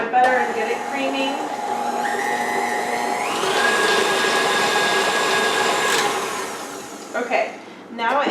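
Electric mixer whirring steadily as it creams butter in a pan, a continuous motor hum that rises in pitch partway through, with faint talk alongside.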